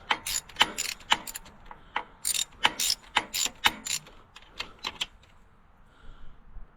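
A ratchet wrench loosens bolts on an Allis-Chalmers G tractor motor, with rapid, close, sharp clicking in uneven bursts that slow and fade toward the end.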